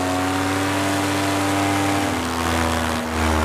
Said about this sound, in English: I'm gonna throttle up and climb.